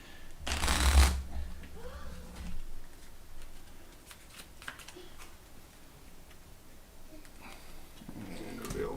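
Bloodborne board game upgrade cards get shuffled by hand up close, with a sharp riffling burst near the start followed by softer, scattered card handling and light ticks.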